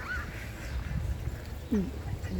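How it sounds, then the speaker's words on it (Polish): Ducks and drakes feeding at a tropical plantation on Maui give two brief quacks, a faint one first and a nearer, louder one later, over open-air background noise. "kaczki i kaczory też pożywiają się"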